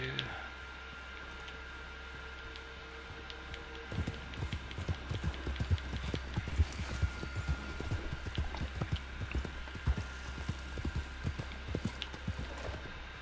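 Horse hooves in Red Dead Redemption 2 clip-clop in an uneven, steady rhythm, starting a few seconds in and continuing close by over a faint background hum.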